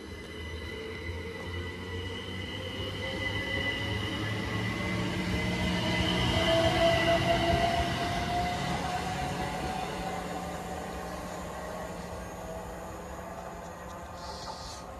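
A train led by locomotive 87103 with 87112 at the rear rolls past at Welwyn North, its rumble swelling to a peak midway and then fading, with a drawn-out rising wheel squeal and steady rail noise.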